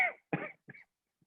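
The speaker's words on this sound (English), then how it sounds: "that cough" A person gives a few short, dry coughs in quick succession, close and fairly quiet, ending with a faint final catch of the throat.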